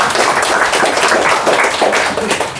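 Audience at an invited lecture on mixed-use residential architectural design applauding the lecturer, a steady, dense wash of clapping from a room full of people, fairly loud and close, with no talk over it.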